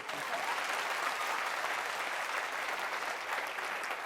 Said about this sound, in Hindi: ऐसे लीडर के लिए ताली हो जाए।